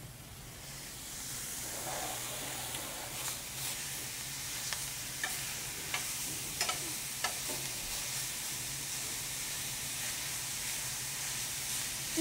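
Seasonings including garlic powder being stirred into meat cooking in a pan, a steady sizzle and hiss with scattered scraping clicks from the stirring, close and moderately loud without talk.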